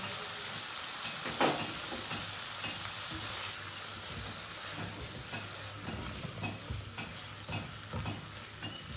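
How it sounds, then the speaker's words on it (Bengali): Masala with chopped tomato and salt frying in a pan while being stirred, for a kasundi aloo dum; steady close sizzle with scraping stir strokes throughout, no talk. "মশলাটাকে একটু কষে নিতে হবে"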